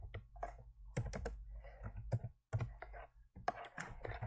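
Keys on a computer keyboard tapped in quick, uneven bursts while code is written, each keystroke a sharp click from close by. A brief silent gap falls midway, and no one speaks.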